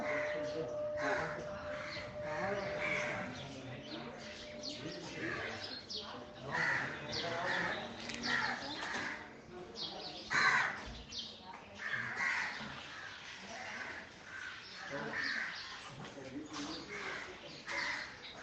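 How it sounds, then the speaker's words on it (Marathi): Crows caw and birds chirp around a temple, the calls loud and close, repeating in short bursts over a steady outdoor background through the whole stretch. "पक्ष्यांचा सुमधुर चिवचिवाट"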